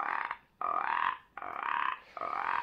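A frog croaking as a sound effect: four rasping, buzzy croak bursts in a steady rhythm, separated by short quiet gaps, loud and close with no voices.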